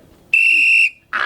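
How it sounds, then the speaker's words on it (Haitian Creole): A whistle is blown to call people together in a neighborhood: one loud, shrill, steady blast lasting about half a second, heard up close, with a second burst starting just as the clip ends. "On va siffler. Vous entendez?"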